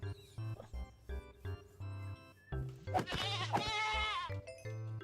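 Goat bleats in the video game Minecraft Hexxit II, a series of short, clipped synthetic bleats repeating at close range over quiet background music, with one longer, louder wavering call in the middle.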